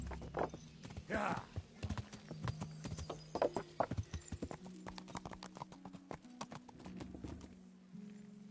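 Horse hooves clip-clop in the medieval video game Kingdom Come Deliverance, an uneven run of close, hard hoofbeats with a brief whinny near the start and a voice talking over them.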